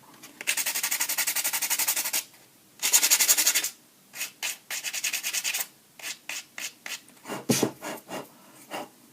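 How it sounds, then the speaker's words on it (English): Hand sanding a plastic edge with a hand tool, a close, steady rasping scrub in long strokes, then a run of shorter rhythmic passes. "I'm going to sand that down with my hand tools now, just to get a finer edge on it"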